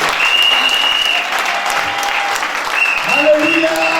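A church congregation at a French-language sermon claps and cheers in a sustained roar, with shouted voices and sustained vocal tones rising over the applause toward the end.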